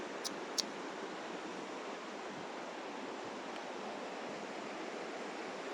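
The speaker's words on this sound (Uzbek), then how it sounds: "Pastda sharshara bor ekan pastda." A waterfall below a forest path sends up a steady, even roar of rushing water, heard from a distance with no talk and two faint clicks near the start.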